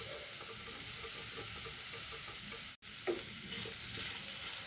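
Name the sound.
stirring salt, sugar, turmeric and pepper into capsicum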